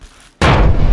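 A loud explosion effect marking a bullion bonus bursts in abruptly after a short near-silent lead-in, then holds as a heavy, booming rumble through to the end, with no voices.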